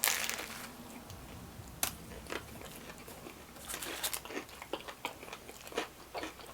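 Crisp crunching bites into buttery garlic bread, crusty outside and soft within, alongside grandma-style pizza; several sharp crackly bites and chewing, close and fairly quiet, with no talking.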